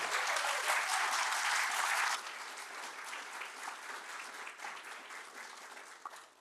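Audience applauding the parents of OWL participants at a community gathering, a dense, steady wash of many hands clapping that swells strongly for about two seconds, then settles into a lighter, sustained ovation.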